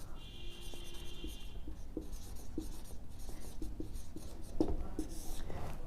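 Writing on a board during a solid-state chemistry lecture on Schottky and Frenkel defects. Steady scratchy strokes and taps sound close against a constant low room hum.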